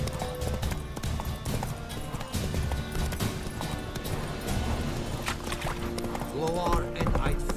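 A horse in The Witcher 3 gallops with steady, rhythmic hoofbeats that continue throughout, mixed with wind and game ambience, and a short whinny-like sound near the end.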